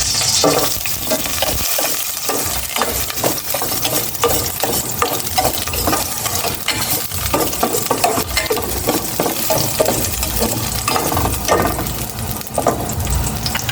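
Garlic sizzling and frying in hot cooking oil in a pan, a steady loud crackle lasting throughout, with occasional stirring scrapes and no talking.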